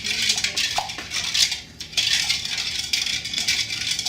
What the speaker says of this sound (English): So I'm going to stir it in until I hear a lot less of that grainy sound at the bottom.